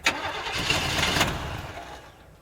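A car engine cranking and catching on ignition, a short burst of rough starter turnover settling into a running rumble before cutting off, close and loud with no talk.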